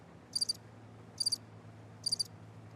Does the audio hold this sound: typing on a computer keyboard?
no